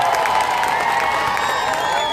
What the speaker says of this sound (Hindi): तो जोरदार तालियां बजा के इनका शुक्रिया अदा कर दीजिएगा।